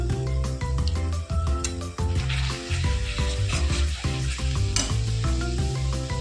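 Turmeric, chilli and cumin powder sizzle and fry in a pan for a Bengali boal fish curry, a steady close crackle with stirring throughout.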